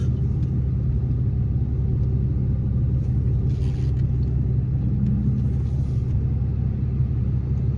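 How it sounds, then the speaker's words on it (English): A truck passes by on a road, a steady low rumble of engine and tires that stays fairly loud and constant throughout, with no talking. "waiting for a truck to pass by"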